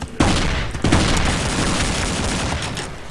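Gunfire in Half-Life roars as a dense, loud, booming barrage with sharp bursts at the start, keeping up a continuous heavy wash of shots throughout.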